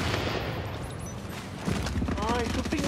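Rapid automatic gunfire in a video game as an enemy shoots at the player, bursts crackling under excited talk from players.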